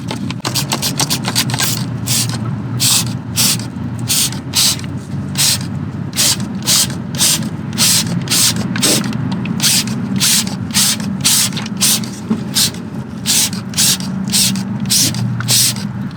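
Rust treatment aerosol sprayed onto the bolts and seams of a Honda Civic Type R underbody, a steady hiss broken by rapid repeated short bursts throughout, close and loud over a low background drone.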